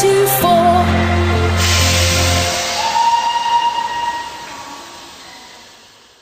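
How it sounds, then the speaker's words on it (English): A train arrives at a station platform, rumbling past loudly with a strong low drone and a brief horn-like tone, then the noise gradually fades away. "On platform D, Here comes the train."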